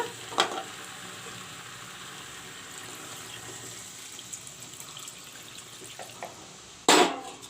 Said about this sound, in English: I fried the masalas with the chicken. Now I will add some water.